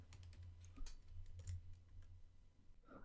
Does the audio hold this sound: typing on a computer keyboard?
yes